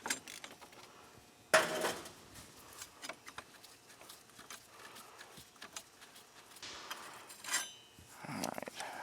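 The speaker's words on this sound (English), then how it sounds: "Now we can remove those two 15mm bolts." Two 15mm bolts being removed from a Polaris ATV front brake caliper, with close metallic clinks and tool clatter, one sharp clank, and scattered faint handling noises between them.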